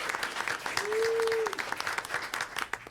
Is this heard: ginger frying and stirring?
no